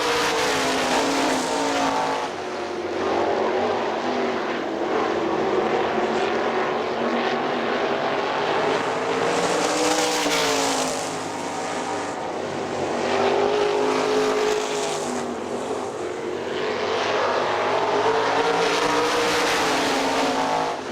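Sprint cars racing on the dirt track at Hartford Speedway, a dense, continuous roar of several engines that swells and fades as the pack laps, loud and close throughout.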